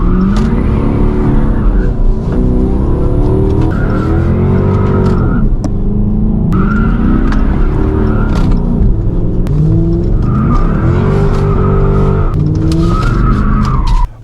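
A 2011-14 Dodge Charger slides with its tires squealing in long, wavering, continuous screeches over a loud, steady engine roar, close and without a break.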